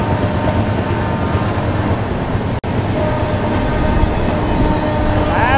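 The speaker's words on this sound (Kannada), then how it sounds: "ಅಲ್ಲಿ ನೋಡಿ, SMVT ರೈಲ್ವೆ ಸ್ಟೇಷನಿಂದ ಒಂದು ಟ್ರೈನ್ ಬರ್ತಿದೆ." A passenger train pulls out of Bengaluru's SMVT railway station and rolls past, a steady close rumble of wheels and rail noise with faint squeals toward the end, no talking.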